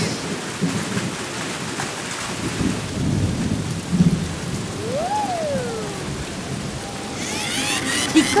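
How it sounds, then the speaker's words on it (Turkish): Steady rain falls with low rumbles of thunder underneath in an animated cartoon soundtrack, and a few tonal sweeps and effects pass over it; no one speaks. "Yağmur yağıyor."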